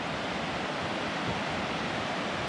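A steady, even rush of a river running below a forested mountain overlook in Montana, heard from above as a constant broadband wash with no talking.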